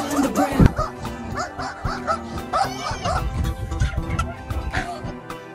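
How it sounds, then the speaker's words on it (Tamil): A dog barks and yips repeatedly in short bursts with some whimpering, fairly close and loud, over background noise with possible voices. "இந்த பையன் கொலைக்கிற நாய் கடிக்காதுன்னு ரொம்ப தைரியமா ஈத்து போயிருந்தான்."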